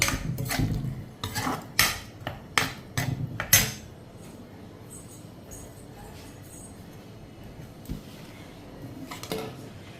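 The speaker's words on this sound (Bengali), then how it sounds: "এই যে ধনিয়া পাতা কাটছি" A knife chops coriander leaves in a home kitchen, a quick run of sharp, close taps on a board that then fades into quieter clinks and background noise.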